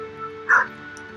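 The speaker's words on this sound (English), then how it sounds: "Of course, it's a dog." A single short, high yip from a dog in Stardew Valley pops out once, brief and clear over a quiet, steady background hum.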